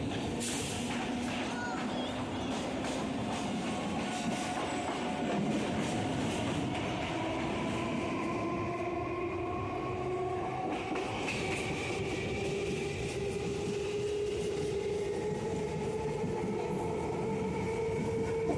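Sealdah–Barasat local train running on rails, heard from inside with a continuous low rumble and clatter, rising tonal whines from the motors and wheels, steady throughout.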